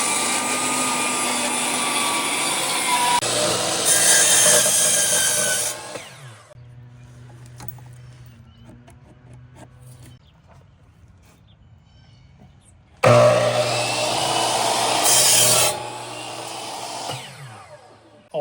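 A SawStop table saw rips through a 2x12 board salvaged from a garage shelf, two loud bursts of blade whine and cutting roar separated by a quieter stretch of the motor spinning down and idling.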